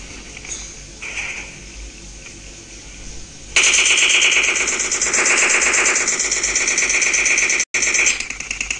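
A mobile shooter video game plays sustained automatic machine gun fire in a loud rapid burst that starts after a few quieter moments and runs to the end with one brief gap. Nobody talks.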